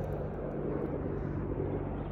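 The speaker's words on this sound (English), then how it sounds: "Army helicopter." Two army helicopters fly overhead, giving a faint, steady, distant droning hum with no clear rotor chop.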